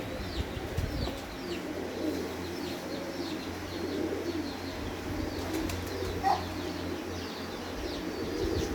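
Breeder pigeons coo steadily in a loft, a low continuous burble with a few chirps from other birds above it and a brief flutter of wings, close and moderately loud throughout.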